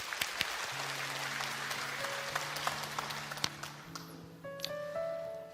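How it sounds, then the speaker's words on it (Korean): Church congregation applauding to welcome a testimony speaker: a steady wash of clapping fills the clip at moderate level, with some tonal hum and a few sharper claps near the end. "우리 박수로 맞아주세요."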